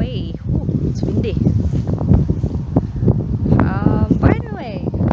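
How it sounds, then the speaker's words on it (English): Outdoor wind buffets the microphone with a low, rumbling roar while a person talks nearby about trimming bushes. "By the way, it's windy."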